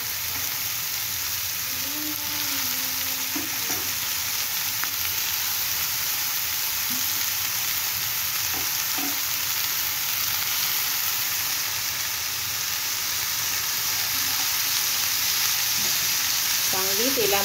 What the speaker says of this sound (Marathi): चांगली तेलामध्ये परतून घ्यायची फोडणीमध्ये भाजी।